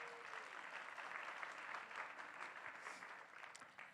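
An audience claps at a Clinton Global Initiative leaders' stage session. The ovation is steady but faint and distant, with a few sharper claps standing out toward the end.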